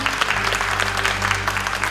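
An audience at a national crafts achievement award ceremony applauds woodcarving master Ye Jinyi with a dense, even patter of many hands clapping throughout, moderately loud and unbroken.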